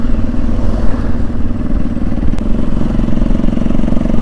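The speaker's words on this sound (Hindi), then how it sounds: "भाई टिक उड़ा दो इस ट्रैक्टर को" A tractor engine runs loud and close at a village Holi celebration in Bihar, a steady throbbing, clattering mechanical drone with no talk over it.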